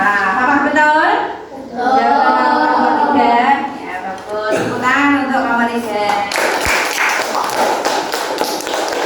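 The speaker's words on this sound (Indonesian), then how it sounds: "Tepuk tangan untuk nomor 3" Classroom applause for a student's correct answer: a teacher talks first, then a burst of scattered hand claps from the class rises near the end and keeps going as the clip closes.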